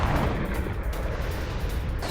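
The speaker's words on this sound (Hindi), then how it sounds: "बमबारी के बाद सैन्य बेस में भीषण विस्फोट" Heavy blasts rumble at a Syrian military base in Latakia after bombing, making a dense, continuous low roar with loud bursts throughout and no voices.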